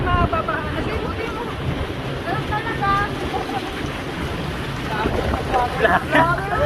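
Gusty outdoor wind buffeting the microphone near a big department store, a steady broadband roar that rises and falls throughout, with people chatting underneath.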